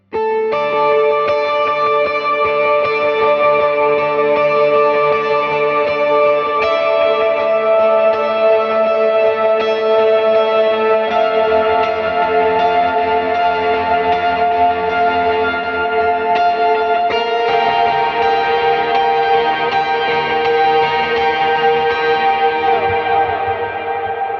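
Electric guitar rings through reverb, dual delay and a pitch shimmer effect, sustained chords blooming into a loud, synth-like wall of layered echoes and octave tones that shifts as new chords enter.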